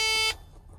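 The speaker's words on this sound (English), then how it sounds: "Beep, beep, beep, beep." A single loud, high electronic beep cuts off abruptly, followed by quiet low background rumble.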